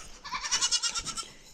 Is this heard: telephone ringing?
no